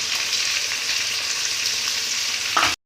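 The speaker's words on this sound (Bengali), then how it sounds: "এবার দেবো আদা বাটা" Ginger paste frying in a pan with onions for chicken biryani, a dense continuous sizzle close up, ending with a brief louder scrape before cutting off.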